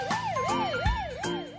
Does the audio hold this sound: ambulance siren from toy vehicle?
yes